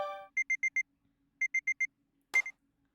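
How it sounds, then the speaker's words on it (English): An alarm clock rings in a visual novel game, two clean sets of four rapid electronic beeps separated by a pause, then a short clunk as it is stopped. "I leaned out of my bed to stop the ringing alarm clock."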